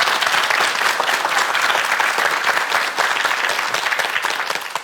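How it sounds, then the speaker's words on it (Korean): A studio audience on a Korean morning TV show bursts into steady, dense applause to welcome Professor Hwang Sang-min, loud and continuous throughout with no break. "우리 황상민 교수님의 강의를 박수로 청해 주시기 바랍니다"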